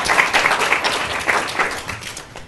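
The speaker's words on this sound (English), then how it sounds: "let's give these folks a round of applause" An audience claps for subcommittee members at a community follow-up event, a steady round of moderate applause holding for a couple of seconds before tapering slightly.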